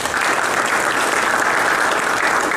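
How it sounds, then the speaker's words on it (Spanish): Dense, steady applause from a seated audience welcoming a speaker, a continuous wash of many hands clapping at even loudness throughout, with no voices standing out. "se lo recibimos con un fuerte aplauso"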